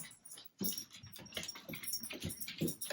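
A dog named Sylvie lets out a string of soft, high whimpers and little yips between snuffly breaths, faint and close, repeating irregularly without any voices.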